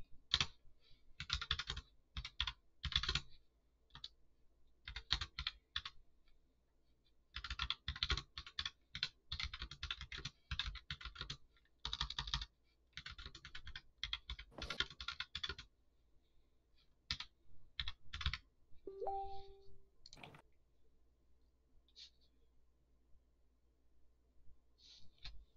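Bursts of rapid clicking keystrokes on a wireless computer keyboard come in quiet, close runs separated by short pauses, with a brief electronic beep near the end and no talk.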